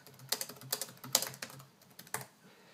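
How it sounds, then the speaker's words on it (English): Close, light tapping of keys on a laptop keyboard, a quick irregular run of soft clicks, quiet and alone. "this keyboard, it feels nice to type on."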